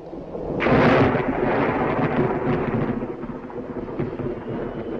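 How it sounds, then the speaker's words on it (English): Film sound effect of thunder from a 1943 Sherlock Holmes picture: a loud rolling rumble bursts in after a brief build, then grumbles on steadily with a rain-like hiss and no speech. "Away from the thunder."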